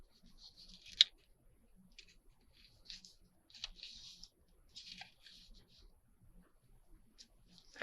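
Scissors snipping the edge off a sheet of paper in a quiet room, a series of short crisp cuts spaced out irregularly, close and fairly soft.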